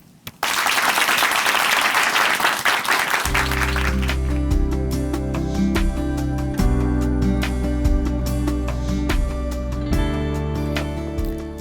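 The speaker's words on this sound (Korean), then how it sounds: "박수로 모십니다" Loud, sustained applause from a large church audience fills the room, soon joined by upbeat music that plays on beneath the clapping.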